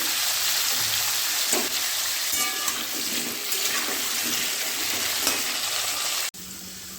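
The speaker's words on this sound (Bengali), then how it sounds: "এই দেখুন পেঁপে আলুগুলো ভাজা হয়ে গেছে" Loud, steady sizzle of papaya and potatoes frying in a pan with occasional stirring scrapes, close up, cutting off abruptly near the end.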